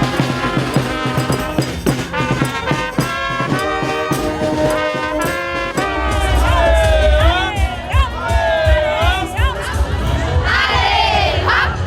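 A large, close carnival parade crowd in Bitche cheers and shouts as floats from neighbouring village clubs roll past, with children's shrieks and whoops over steady babble and festive music that swells louder in the second half.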